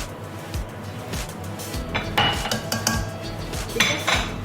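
A metal lid is set onto a cooking pot of simmering mutton karahi gosht, with repeated close clinks and scrapes of metal on metal at an uneven rhythm.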